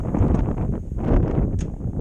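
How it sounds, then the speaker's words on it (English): Blustery wind buffets the microphone in low, rumbling gusts, loud and close, with a faint high tone lingering above. "it's getting a bit windy"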